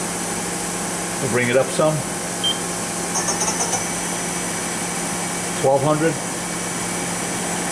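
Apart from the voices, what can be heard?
Mori Seiki ZT-1500Y CNC turning center spindle running with 3-jaw chuck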